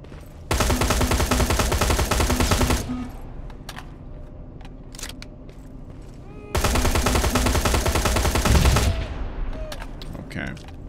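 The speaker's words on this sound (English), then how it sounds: "We're dealing with the crossfire here" Heavy crossfire in Terminator Resistance comes as two long, loud bursts of sustained automatic gunfire, separated by a quieter stretch with scattered single shots and clicks.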